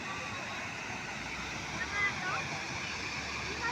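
Bolinao Falls in Pangasinan roars with a steady broadband rush of falling water, loud and unbroken, while a voice talks faintly beneath it.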